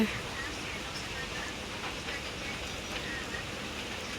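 Steady hiss of rain falling, constant and even from start to finish, with a faint murmur of voices underneath.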